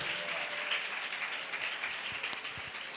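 A church congregation claps hands together during a Hindi-English worship service, a steady, dense wash of applause that fills the room without a break.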